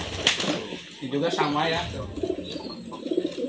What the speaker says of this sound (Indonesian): ini posisinya burungnya lagi giring ngeket ya tuh.